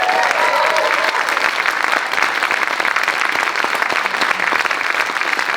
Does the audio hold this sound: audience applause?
yes